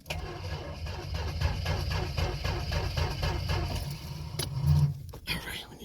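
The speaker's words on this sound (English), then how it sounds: "See if it starts on the first crank." An old Mopar car engine cranks repeatedly without catching, a rapid rhythmic starter churn lasting several seconds before a brief surge and cutoff, heard close up.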